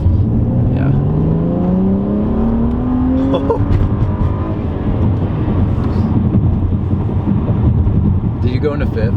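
A BMW car accelerates hard with a loud, close engine rising in pitch, then drops as it shifts gears and pulls again, under steady road and wind noise, with a voice briefly audible.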